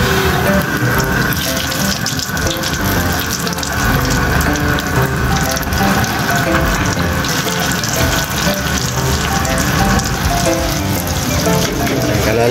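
Chicken pieces deep frying in oil, with a steady, continuous sizzle and bubbling throughout, fairly loud and close, with a voice talking over it at times.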